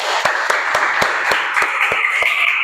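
A school class claps in a steady rhythm, about ten evenly spaced claps in unison, fairly close and with no talking.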